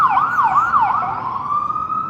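Ambulance siren wailing up and down in quick sweeps, then settling into a long steady tone as it passes, loud and clear with no talk over it.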